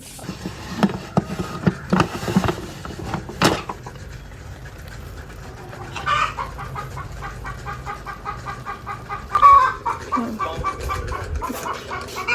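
Egg-laying chicken hen clucking close by in a short series of sharp calls, with quieter scattered clucks and faint background sounds between them, no talk.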